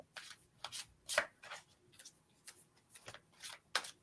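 Cards being drawn and handled from a deck, a run of brief crisp flicks and slides with one sharper snap, close and fairly quiet with no talk.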